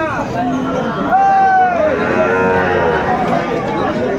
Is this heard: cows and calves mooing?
yes